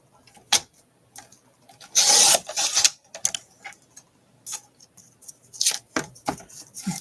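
Cutting about an eighth of an inch off a border: sharp snips and short scraping strokes come in scattered bursts, with one longer rasping cut near the start, close and alone.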